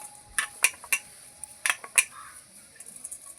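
A metal bowl is set into a momo steamer with a few sharp metallic clinks and knocks, close and distinct, spaced irregularly with quiet gaps between them.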